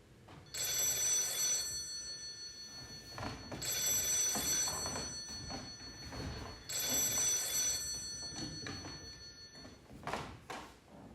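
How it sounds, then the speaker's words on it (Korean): A telephone rings repeatedly during a university drama club's autumn stage performance of a play set in an ER, sounding in three long bursts of bright electronic trilling over room noise. "제 전화인가요?"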